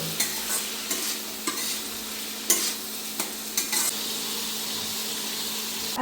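Frying potatoes with salt and turmeric, for a small river fish dish, are stirred in a pan: a steady close sizzle broken by several short scraping knocks of the spoon.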